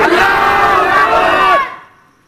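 A large rally crowd chants the Naara-e-Takbeer slogan together in one loud, sustained roar of many voices, close and dense, that swells for about a second and a half and then cuts off and fades to quiet.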